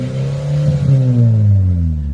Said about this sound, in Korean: 하고 싶을 때 그냥 버튼을 눌러가지고 이렇게 예쁜 배기 소리 들을 수 있습니다